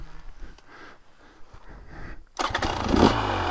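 A 2023/24 KTM 300SX dirt bike fitted with an FMF silencer rumbles low at first, then bursts into a loud, close revving snarl partway through.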